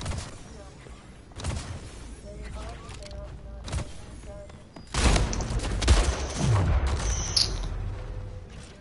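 Video game gunfire in rapid bursts and single loud shots, with booming impacts, heard alongside excited players talking over it.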